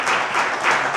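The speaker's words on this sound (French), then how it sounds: "Je vous demande d'applaudir bien fort, s'il vous plaît" Audience applause at an evening event in a café, a dense, steady wash of many hands clapping together, loud and close, filling the whole second without talk.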